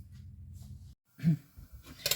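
Peeled eggplant is cut into 2 cm cubes, giving a few soft, close cutting crunches and taps between quiet pauses.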